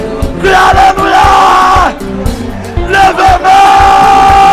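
A church congregation shouts hallelujah in loud, sustained bursts of crowd yelling, with rhythmic thumping beats running underneath and a brief dip in the middle before the shouting surges again.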